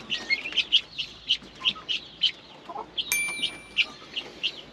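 Tokat chickens in a hobby coop give a steady run of short, bright chirps and clucks, close and fairly loud, with a brief harsh squawk partway through and no talk.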